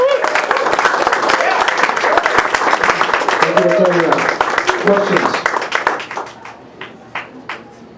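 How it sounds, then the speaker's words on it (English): An audience claps after a talk at a GeoDC meetup, dense applause that fills several seconds and then thins to a few scattered claps, with a voice briefly heard over it. "Round of applause again."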